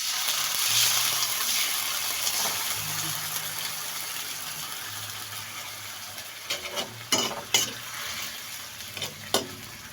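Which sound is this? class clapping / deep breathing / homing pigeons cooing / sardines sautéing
sardines sautéing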